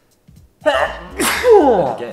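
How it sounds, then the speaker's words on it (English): One close, abrupt sneeze from someone talking alone to a microphone, preceded by a short breathy intake and followed by his speech. "I'm gonna sneeze."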